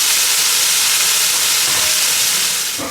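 Chicken frying in a hot pan, a bright, steady sizzle and hiss held close throughout, tapering slightly at the end, with no talking.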